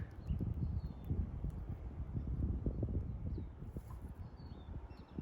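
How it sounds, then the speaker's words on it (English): Low, blustery wind buffeting a microphone outdoors, a steady rumbling roar with gusty swells throughout and faint birdsong high above. "on a breezy day, so I apologize for the noise."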